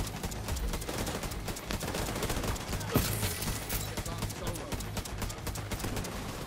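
Automatic snowball gun in The Division 2 firing a continuous rapid stream of shots, dense and rattling for the whole stretch at moderate volume, with faint voices beneath.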